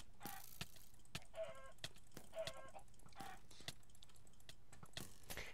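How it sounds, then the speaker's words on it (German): Chickens clucking in the Minecraft video game, with short repeated clucks and squawks at moderate volume over a steady background hum, no talk. "Alter, was ist denn das hier mit den Hühnern immer?"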